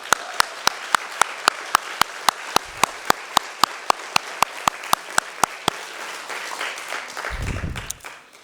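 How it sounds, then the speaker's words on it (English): Applause at an evening business lecture, with loud, evenly spaced sharp claps over a bed of crowd clapping for several seconds. It fades into murmur, and a voice enters near the end. "Let's give David Rubenstein one more round of applause."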